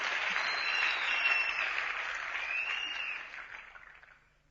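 Applause from an event audience in Kolhapur, a dense steady clatter of clapping that holds for several seconds and then fades out toward the end, with no voices.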